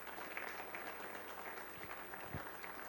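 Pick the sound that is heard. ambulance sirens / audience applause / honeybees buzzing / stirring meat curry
audience applause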